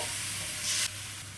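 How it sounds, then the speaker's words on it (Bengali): Spice paste sizzles in a hot wok over fried potato, green banana and taro pieces, a steady close hiss with a brief louder surge midway; no talking. "এই যে মশলাটা এখন দিয়ে দিচ্ছি কড়ার মধ্যে"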